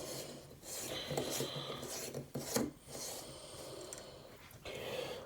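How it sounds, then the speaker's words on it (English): An E26-base light bulb twisted into a socket, giving a dry rasping, grinding rub of glass and metal threads in short close strokes, quiet and without talk. "this has an E26 base, let's try screwing this in"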